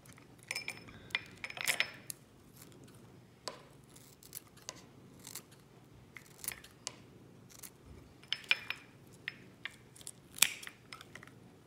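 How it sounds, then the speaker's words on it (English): Scissors snip and crunch through a rubber toy in scattered, uneven cuts, with close, crisp clicks and short scraping bursts and quiet pauses between. "you're going to be needing some sort of like a rubber toy, some scissors, and you just want to cut it up"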